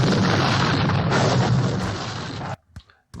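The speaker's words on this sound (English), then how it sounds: "hopefully that artillery can still see those troops, so we'll have another go" Artillery fire in a John Tiller Napoleonic Series wargame, a loud, dense, sustained roar of cannon blasts rumbling for over two seconds, then cutting off into near silence with a couple of faint distant pops.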